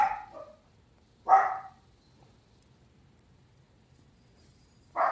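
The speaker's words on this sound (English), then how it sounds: "Excuse the noise, it's my dog." Three separate dog barks, spaced a second or more apart, fairly close and sharp, with quiet gaps between them.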